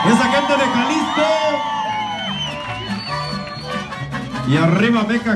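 A party crowd at a quinceañera shouts, whoops and cheers loudly and continuously, many voices overlapping up close.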